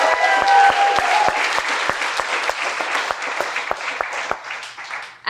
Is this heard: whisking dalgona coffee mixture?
no